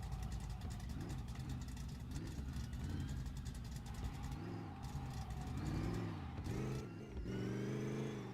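A small, powerful car engine in a driving video game revs up and down through the gears, a continuous loud whine that rises and falls repeatedly, with brief lifts between pulls.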